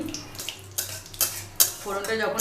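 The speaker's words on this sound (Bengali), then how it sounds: "আর দিচ্ছি দুটো তেজপাতা। তো এটাকে আমি একটু নাড়াচাড়া করে নিয়ে" Two bay leaves and a dried red chilli stirred in hot oil for a Bengali tempering, with a utensil scraping and clinking against a pan several times over a faint background sizzle.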